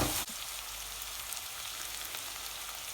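Ginger and garlic paste frying in a pan for curry, a steady close sizzle and crackle after a brief louder start.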